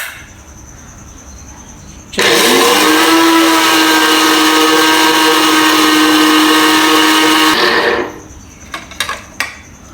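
A commercial blender machine mixes eggs and oil for mayonnaise, starting abruptly into a loud, steady high whine that runs about six seconds before cutting off, followed by a few light clunks.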